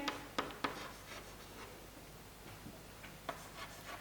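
Handwriting on a surface during a chemistry lesson about sodium, faint scratchy pen or chalk strokes with a few sharp taps, quiet and close with no talking.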